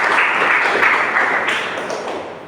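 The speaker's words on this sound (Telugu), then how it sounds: "దేనికోసం గట్టిగా చప్పట్లు కొడతారా?" A congregation at a Sunday church service claps loudly in a dense, continuous burst that tapers slightly toward the end.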